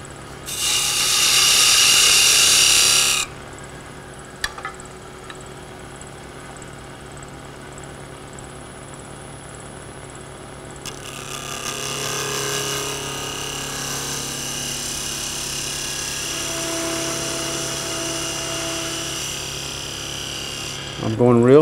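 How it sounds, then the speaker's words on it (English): A lathe hums steadily while a homemade parting tool scrapes and rasps against a spinning wooden twig pot, with a loud burst of whirring at the start and brief clicks. "I'm just gonna take my cheapy homemade parting tool. Cut in a little bit."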